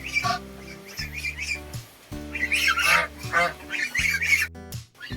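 Free range chickens squawk and honk loudly while fighting at a feeder inside their pen, giving a run of harsh, overlapping calls close by with brief pauses.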